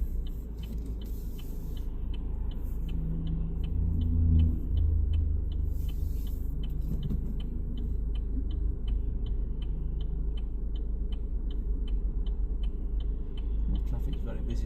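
A Vauxhall Astra 1.6 CDTi ecoTEC diesel estate drives toward a motorway junction, its steady low engine rumble and road noise heard from inside the cabin with a regular indicator tick running throughout; someone talks over it at times.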